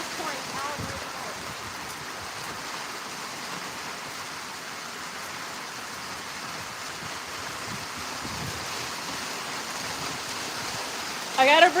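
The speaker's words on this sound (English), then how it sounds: "Man, it's pouring down, y'all. It's pouring down really hard." Heavy rain pours down outdoors, a steady broadband wash of water noise with some wind buffeting the microphone, continuous throughout and fairly close, ending with a brief louder thump.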